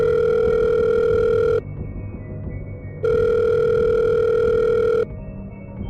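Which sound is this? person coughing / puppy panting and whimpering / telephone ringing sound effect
telephone ringing sound effect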